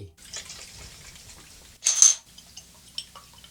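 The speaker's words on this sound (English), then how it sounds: "Next, I'll go ahead and splash on PAA's Doppelgänger DBL SOB." Aftershave splash, PAA Doppelgänger, patted onto the face in a bathroom: one brief wet slap stands out over faint background rustling, followed by a few small soft taps.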